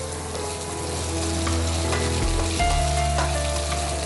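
Steady close sizzle of small onions and a large onion cut into medium squares, sautéing in a pan for a prawn koottu curry, with occasional stirring scrapes and no talk.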